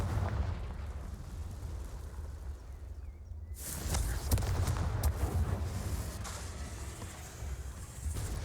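Confringo fire spell explosion in the Hogwarts Legacy game during a duel, a sudden loud blast followed by crackling bursts and scattered pops over a rumbling background.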